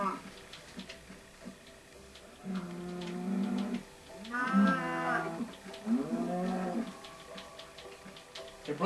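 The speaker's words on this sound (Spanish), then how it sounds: "aquí ya tengo mi ganado." Cows moo in the Minecraft video game, PlayStation 4 edition: three drawn-out, harmonic lowing calls follow one another over a few seconds, moderately loud against a quiet game background.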